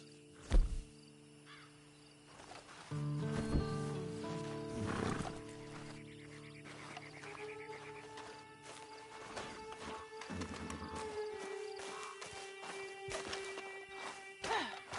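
A horse in the Red Dead Redemption 2 video game gives a loud snort or whinny early on, followed by hoof clip-clop, tack noises and soft ambient sounds including insects, with musical tones running underneath.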